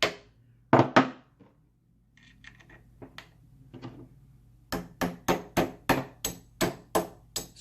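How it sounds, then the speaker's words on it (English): A hammer taps pins into a Remington 870 shotgun: a few sharp knocks, a pause with faint handling clicks, then a quick, steady series of about nine close, crisp metallic taps. "Slightly tap them with the hammer."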